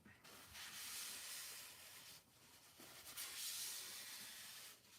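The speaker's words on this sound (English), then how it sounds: "I am just spraying water on this because it's already pretty much dry" Repeated bursts of fine hissing spray of water from a spray bottle, close by, each lasting about a second or two with brief pauses between.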